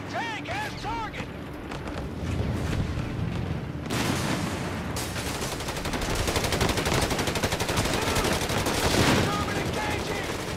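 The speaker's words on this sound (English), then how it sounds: "Enemy HMG up ahead!" Heavy machine gun fire in a World War II Italian campaign battle in Company of Heroes 3, sustained rapid bursts of gunfire with booms, loud and dense, under shouted voices.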